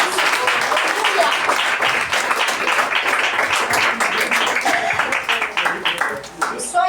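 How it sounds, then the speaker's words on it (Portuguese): A church congregation applauds in lively, continuous clapping that fills the room for several seconds. Voices and cheers mix in beneath the clapping, heard close and loud. "Palmas para o nosso Senhor."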